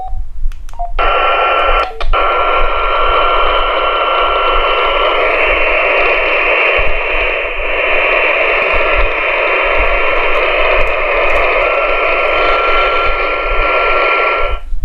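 A loud, continuous hiss of radio static bursts on after a click and holds steady, a Firstec FT-80X handheld receiver with its squelch opened.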